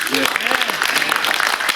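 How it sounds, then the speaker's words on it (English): Audience applause fills a convention panel marking the Buck Rogers 40th anniversary, a steady, dense clatter of clapping with voices talking and calling out over it throughout. "So give him a applause."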